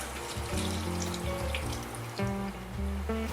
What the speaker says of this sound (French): Ensuite, le bouillon que je vais filtrer.